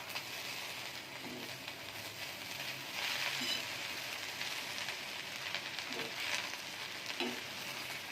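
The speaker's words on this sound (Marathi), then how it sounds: "आपण आता ही भाजी हलवणार आहोत" Amaranth leaf vegetable and onion frying on a low flame, a steady close crackling sizzle like light rain, with occasional soft knocks of a spoon stirring through the pan, no voices.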